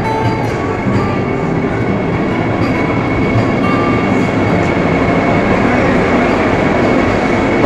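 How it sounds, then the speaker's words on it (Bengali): A Vande Bharat Express pulls into platform one of a station in the morning, a loud steady rolling rumble with faint clicking of wheels and a continuous hum throughout. "সকালবেলা এক নম্বর প্ল্যাটফর্মে বন্দে ভারত এক্সপ্রেসে, বন্দে ভারত এক্সপ্রেস ঢুকছে"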